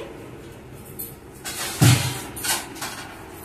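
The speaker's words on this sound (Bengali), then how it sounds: "এবার আমি এটা ঢাকা দিয়ে দিচ্ছি।" A metal lid knocks and clatters down onto a cooking pot of potatoes boiling in water, a few quick close clinks and scrapes with no talk.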